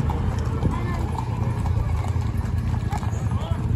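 Many horses clip-clop on hard ground at a gathering spot, steady overlapping hoofbeats close by with an occasional whinny, under continuous crowd chatter and people talking throughout.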